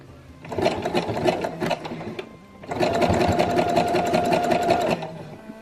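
Sewing machine bar tacking across lace on a bra, two bursts of rapid mechanical stitching chatter separated by a brief pause, close and loud.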